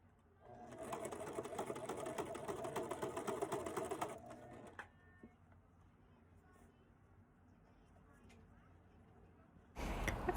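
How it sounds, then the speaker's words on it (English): Sewing machine running a straight stitch through African print fabric for a scrunchie, a close rapid whirring burst for about four seconds, then quiet, with a short clatter at the end. "As you're sewing the line down, be sure to keep gathering the edges so the edges line up"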